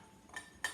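A spoon stirs a dry homemade spice blend in a container, giving two brief scraping, clinking strokes close up in a quiet room.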